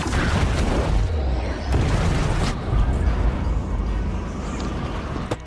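A large explosion from the film The Equalizer 2 rolls out as a loud, continuous rumbling boom with debris noise, swelling again midway before slowly fading.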